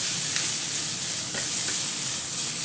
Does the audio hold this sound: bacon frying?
yes